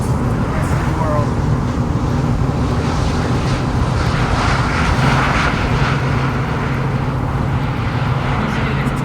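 Airplane coming in to land near Miami airport, a steady loud broadband roar that holds for the whole stretch, mixed with highway traffic noise.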